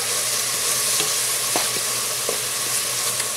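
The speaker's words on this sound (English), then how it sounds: "So this will take about 2 minutes to saute to get these onions nice and" Onions sautéing in a pan for a beef and butternut squash stew, a steady close sizzle with a few soft stirring clicks and scrapes over about three seconds.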